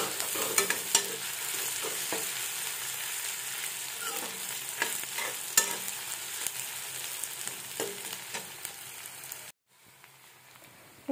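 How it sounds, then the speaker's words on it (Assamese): Ginger garlic paste fries with onions in a pan for a meat curry, hissing and sizzling steadily while a utensil stirs and scrapes in irregular clicks, then the sound cuts out abruptly near the end. "আদা নহৰু দি পেলাই আপোনালোকে আদা নহৰুখিনি গোন্ধ যোৱালৈকে ভাজি ল'ব"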